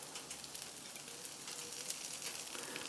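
Bacon sizzling on a hot flat-top griddle while making a smash burger, a steady, dense crackle and hiss that continues evenly throughout with no talking.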